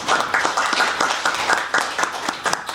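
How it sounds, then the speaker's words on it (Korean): Audience at a Korean American studies academic conference applauding to welcome a Sejong Institute speaker: moderately loud, continuous clapping from a roomful of people with slight swells, lasting nearly three seconds. "박수로 환영해 주시기 바랍니다."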